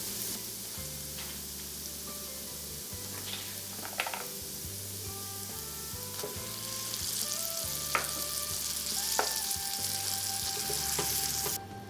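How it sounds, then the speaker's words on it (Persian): Grated tomato frying with garlic and tomato paste for a southern Iranian lentil stew (daal adas), a steady hiss of frying with occasional clicks of a utensil, growing louder and brighter toward the end, with no voices. "رب که خوب سرخ شد و رنگ باز کرد گوجه فرنگی رنده شده رو به اون اضافه میکنم"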